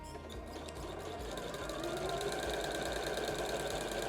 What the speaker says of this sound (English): we're just going to carry on sewing